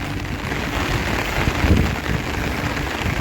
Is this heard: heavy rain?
yes